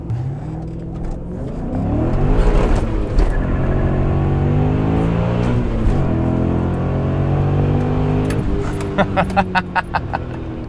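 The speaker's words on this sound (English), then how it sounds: "how about a couple more pulls in the M5 to give you guys more of a feel of that acceleration?" A supercharged E39 BMW M5 engine revs and accelerates hard through several gear changes, pitch rising and dropping, heard from inside the cabin.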